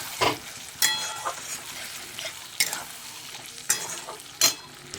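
Sour yogurt and tomato frying in a pan for mutton curry, a constant sizzle broken by several sharp scrapes and clacks of a spoon stirring against the pan, close and fairly loud, without talk.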